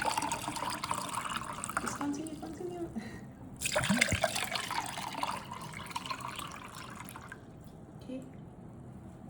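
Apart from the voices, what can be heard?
coconut water pouring from a fresh Jamaican coconut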